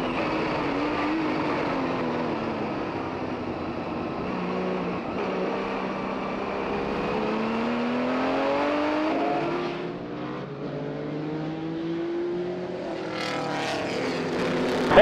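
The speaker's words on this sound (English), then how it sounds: "Here they come out of turn 11, accelerating up the start-finish straightaway." Vintage race cars, including a Porsche 935, roar up the start-finish straight at the Rolex Monterey Motorsports Reunion, engines droning continuously and shifting pitch as several cars pass near, with no talk.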